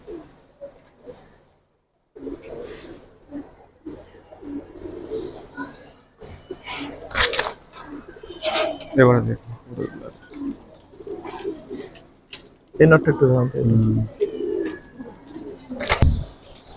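Giribaz pigeons in a collection cooing in low throaty bursts, fairly close, interspersed with someone talking over them.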